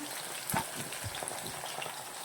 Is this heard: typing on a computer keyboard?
no